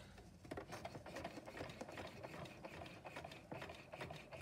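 Hand-cranked sewing machine stitching a few stitches forward and back, giving a steady, fairly faint mechanical rattle and patter of rapid clicks close by with no talk.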